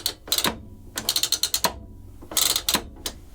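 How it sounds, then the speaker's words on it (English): The depth stop turret on an Axminster AP330ST portable thicknesser clicks through its settings in quick bursts of sharp ratcheting ticks, close and loud, with short pauses between runs. "it moves this little turret inside that when you lower the head it will stop at those"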